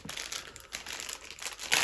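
Thick plastic parcel bag from a lost-post unboxing crinkling and rustling steadily as it is opened, close and fairly quiet, with no speech.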